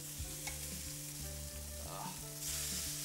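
Mushrooms fry in a hot pan with seared lamb, giving a soft, steady sizzle with some stirring and scraping, fairly quiet, under a low tonal hum.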